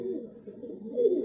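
A young pigeon, just caught, gives a soft low coo, brief and close, with no other sounds around it.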